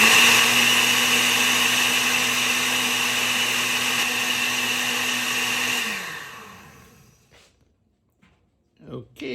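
An electric mixer whirs steadily while blending paprika sauce for a vegan chicken paprikash, a loud continuous drone that winds down and stops partway through, followed by faint handling noises.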